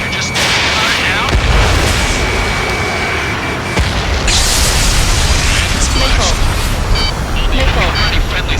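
Missile explosions and dense combat booms fill an Ace Combat 7 air battle, a loud continuous roar of blasts and jet noise with radio chatter over it.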